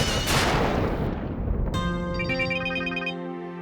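A phone rings in an Odia TV serial scene. A loud burst of noise gives way to a steady, electronic, multi-tone ringtone that sounds clearly and alone for about two seconds.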